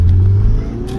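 A tuned Audi TT quattro with an open-type exhaust revving, a brief, loud, close engine drone that holds steady then eases slightly.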